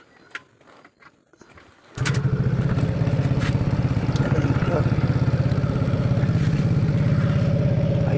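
A motorcycle engine starts after a few faint clicks and rattles, then settles into a steady, close, pulsing idle as it warms up.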